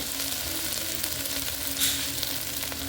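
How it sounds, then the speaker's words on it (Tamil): Steady crackling sizzle of spices frying in hot oil, continuous and fairly close, with a brief brighter spurt partway through. "அதையும் எண்ணெய்லேயே போட்டு நல்லா ஃப்ரை பண்ணிட்டு"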